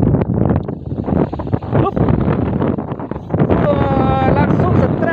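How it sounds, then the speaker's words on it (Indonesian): Steady wind gusting across an outdoor fishing spot, a broad continuous rush and buffeting on the microphone lasting the whole stretch, with people talking over it throughout. "ini cuacanya angin ya"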